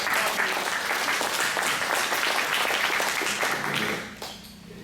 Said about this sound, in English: Please, let's give him a round of applause for coming all the way over here.